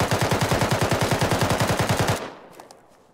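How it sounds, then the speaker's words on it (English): Automatic gunfire in the Arma video game, a rapid sustained burst of evenly spaced shots, loud and close, lasting about two seconds before stopping, followed by a few faint distant pops. "taking fire from the east"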